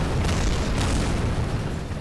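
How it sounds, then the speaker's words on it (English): Rocket explosions in the video game Kerbal Space Program form a loud, continuous rumbling roar with a couple of sharper bursts near the start, with no talk. "A lot of explosions there."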